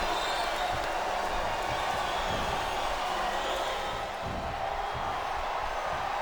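Wrestling arena crowd at a WWE televised match, a steady wash of crowd roar and murmur filling the hall, loud and continuous with faint thuds and bursts beneath.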